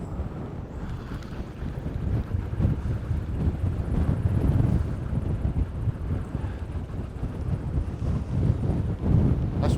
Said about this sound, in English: this wind is absolutely wild